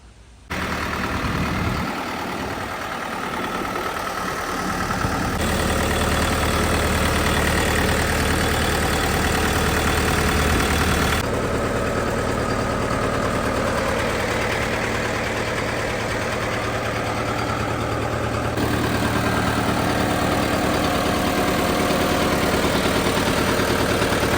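The small diesel engine of a Kentavr 504 SD 50-horsepower mini tractor idles steadily and loudly, a continuous low rumble with a knocking rhythm, running alone without any voices.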